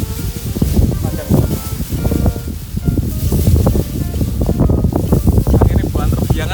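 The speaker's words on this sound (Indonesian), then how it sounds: "Anginnya banter banget." Strong gusting wind buffets the microphone outdoors while a very long 50-metre worm kite is prepared for flight, a loud continuous roar with rumbling gusts throughout.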